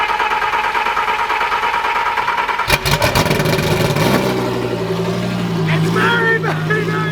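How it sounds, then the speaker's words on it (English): Lamborghini Aventador Super Trofeo cold-starting in a shop: starter whine, a sharp bark as the engine fires, then a loud, steady high idle, with people talking over it. "So there's a cold startup on said Super Trofeo."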